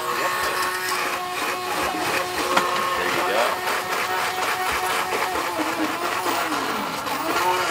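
A hand blender buzzes steadily at a farmers market stall, running continuously at close range while people talk over the whirring motor.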